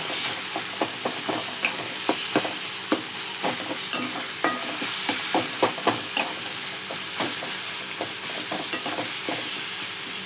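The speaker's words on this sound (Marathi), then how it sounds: "टाकू आपण मिरची आणि जिरे लसूण वाटलेले ते टाकून घेतले बघा" Green chillies, cumin and ground garlic paste fry with onion and tomato in a pan, a loud continuous sizzle and hiss with steady, rhythmic spatula scrapes and clicks throughout.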